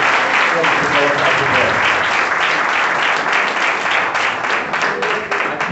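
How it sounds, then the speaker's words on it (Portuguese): A church congregation at an Assembléia de Deus service applauds loudly and steadily, dense clapping filling the room throughout, with some voices mixed in under it. "dê uma boa salva de palmas para Ele"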